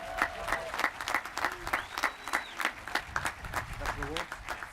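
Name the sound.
applause for Mr. Lee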